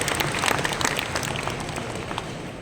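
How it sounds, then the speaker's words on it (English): Indoor audience at a JCI NATCON 2024 convention clapping in a dense, sustained round of applause that stays fairly even throughout. "with a big round of applause from all of you."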